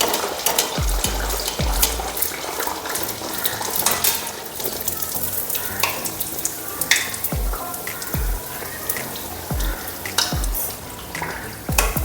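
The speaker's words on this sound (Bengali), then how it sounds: "এখন আমি তেলে ভেজে নিচ্ছি।" Pua pitha batter fries in hot oil in a wok, a constant crackling sizzle with sharp pops and occasional low thuds of utensils throughout, close and fairly loud with no talking.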